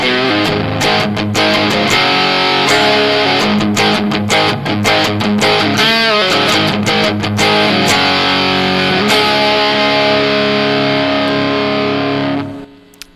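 Electric guitar on its bridge pickup through a Marshall JCM 800 amp, heavily distorted: loud chugging palm-muted chords and sustained crunchy notes in a steady riff, ending with a final ringing chord that cuts off.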